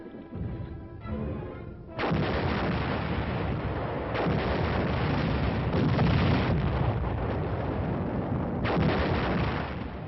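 WWII-era field artillery, massed large field pieces firing in a concentrated barrage: loud, continuous booming and rumbling blasts that roll into one another without a break, with no voices.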